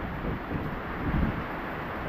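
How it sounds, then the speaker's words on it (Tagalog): Strong typhoon wind roars steadily outdoors, a dense broadband rush with low buffeting gusts swelling around the middle, close and continuous with no voices. "Nagsasalita yung hangin."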